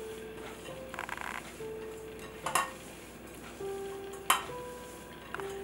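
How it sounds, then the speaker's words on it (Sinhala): Dried prawn mixture for malluma is kneaded and mixed by hand in a kitchen bowl, giving soft rustles with a couple of sharp clinks against the dish, fairly quiet with no talking. "දැන් අපි මේක දාන්න ඉස්සෙල්ල හොඳට මේක අපි අනා ගන්න මේ විදියට"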